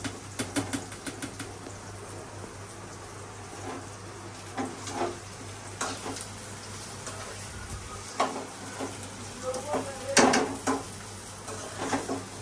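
Onion and garlic fry for khichuri in a pan, a soft steady sizzle broken by irregular scraping and clinking from stirring utensils against the pot, fairly close.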